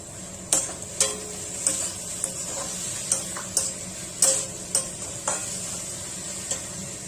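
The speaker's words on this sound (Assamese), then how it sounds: "এতিয়া ইয়াত লো ফ্লেমতে ৰাখিছোঁ সৰুকৈ কুটি লোৱা বিলাহী দিছোঁ।" Finely chopped tomatoes fry on a low flame, a soft steady sizzle broken by roughly a dozen crisp spoon scrapes and taps against the pan at a loose, regular rhythm.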